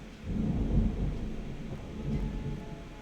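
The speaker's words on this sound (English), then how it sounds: "I don't know if you heard that very dramatic peal of thunder just now" Dramatic peal of thunder in the video game Endless Summer, a deep rolling rumble that swells, holds for a couple of seconds and slowly fades. It is loud and low and heard alone, without talk.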